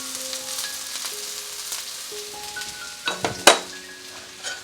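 Onions and garlic sizzle steadily in a very hot pan for an octopus devilled dish, a continuous close frying hiss with a few sharp clinks of utensil on the pan near the end.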